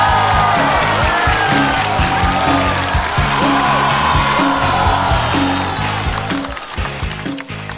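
A studio audience at a celebrity roast show applauds to welcome a guest, loud clapping and crowd noise over a backing music sting that fades out toward the end.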